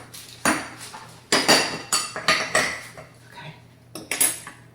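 A metal baking sheet clanks and rattles as it is picked up and handled in a home kitchen, several sharp close metallic knocks in quick uneven bursts with brief quiet gaps between.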